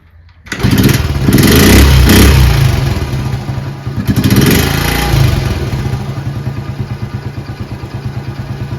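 A Honda Z50 motorcycle engine, just fitted with a new spark plug, fires up close by, revs hard and then drops to a steady, even idle with no talking.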